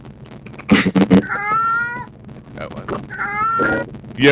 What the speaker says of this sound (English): That cat sounds agitated,